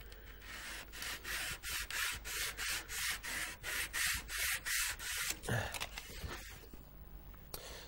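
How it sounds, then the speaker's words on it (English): Sandpaper is rubbed by hand along a wooden beading in a steady series of about a dozen short, close strokes, each a soft rasping swish, before the sanding stops. "Then out with your sandpaper, finish that one off."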